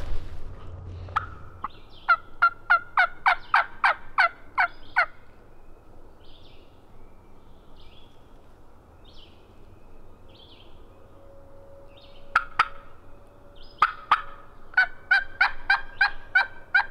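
A wild turkey gobbler in Georgia late season calls from far off, two bursts of rapid rattling gobbles separated by a quiet stretch, clear but distant across open ground, with no talking.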